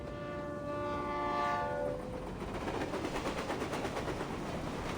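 A train from the video game Reverse 1999 runs on rails: a loud horn tone sounds for about two seconds, then a steady rumble with rhythmic clickety-clack of wheels continues alone.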